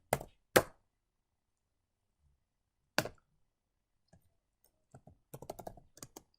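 Sparse computer keyboard typing in a quiet room: a few isolated loud key clicks, a pause, then a quick cluster of lighter taps.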